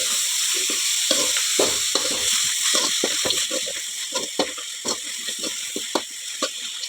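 Vegetables and leftover pundi fry in a pan, giving a steady close sizzle broken by frequent clattering stirs and scrapes throughout, with no talking.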